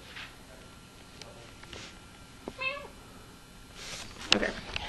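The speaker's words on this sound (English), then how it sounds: "There's the kitty!" A pet cat gives a single short meow mid-clip in a quiet home at Christmas, fairly faint against low room noise, with soft voices and rustling nearby.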